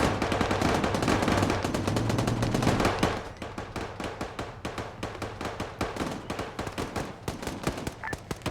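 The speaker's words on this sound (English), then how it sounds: "We got some fire coming from right in front of us." Close gunfire from straight ahead rattles in fast automatic bursts, dense and continuous at first, then thinning to sharper, more spaced volleys.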